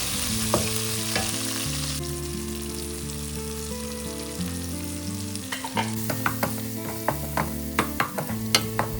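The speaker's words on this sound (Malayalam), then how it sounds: "അതിലിത്തിരി മുളക് പൊടി ഇടുക. എന്നിട്ട് വീണ്ടും നന്നായിട്ട് വഴറ്റുക." Tomatoes with chili powder sautéing in a pan, a steady sizzle under background music, with a run of sharp, rhythmic spatula scrapes and taps toward the end.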